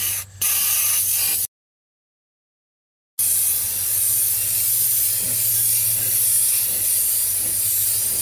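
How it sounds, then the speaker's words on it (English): A steady, loud spray hiss of Rust-Oleum truck bed coating being sprayed onto a truck tailgate runs for a second, breaks off into silence, then resumes and continues evenly to the end. "I'm just going to spray it right on here."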